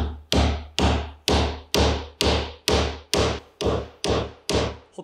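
A hammer strikes a chisel in a regular rhythm of about ten sharp, resonant blows, each decaying quickly, while cutting a mortise in wood for a joined stool; close and clear with no speech.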